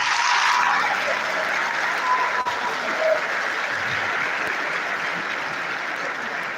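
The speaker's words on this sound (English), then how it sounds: "I want a resounding round of applause for the inductees to me." An audience applauds for inductees at a Nigerian academic ceremony, a dense, steady wash of clapping that stays loud and unbroken for several seconds.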